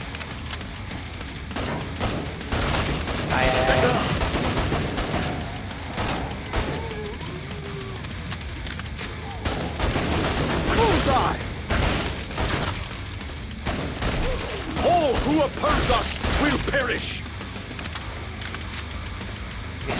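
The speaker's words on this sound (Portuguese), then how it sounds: "tem um single shot e o burst de 3 tiros" Gunfire in the video game Killing Floor 2, single shots and three-round bursts, heard as clusters of sharp, fairly loud cracks separated by short pauses, with no talking.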